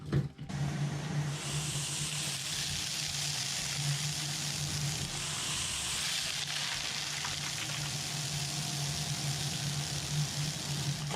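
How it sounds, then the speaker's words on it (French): A homemade cyclone vacuum sucks up a small amount of cement, a loud continuous rushing hiss with a low hum beneath, steady from start to finish after a brief opening thump. "je vais aspirer un tout petit peu de ciment"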